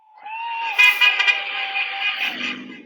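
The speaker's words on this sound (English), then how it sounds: "a convoy of Trump supporters is driving through this town, hooting their horns" Several car horns honk in a passing convoy of vehicles on a small-town street, a long sustained blare with overlapping toots layered on top, loud and close, fading into lower engine noise at the end.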